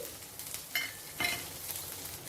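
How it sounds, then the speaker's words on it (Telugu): Onions and curry leaves fry softly in oil, a faint steady sizzle with a couple of brief metallic stirring scrapes. "కొద్దిగా కరివేపాకు వేసుకొని ఉల్లిపాయ ముక్కల్ని 1 నిమిషం ఫ్రై చేసుకోవాలి"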